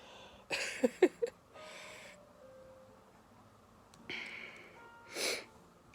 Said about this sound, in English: Oh, Sophie went to go check on him for sneezing.